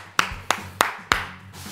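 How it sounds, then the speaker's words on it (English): Four distinct sharp hand claps in a steady rhythm, close and clear, from children during a kids' soccer fitness session, with quiet between each clap. "give yourselves a great big clap"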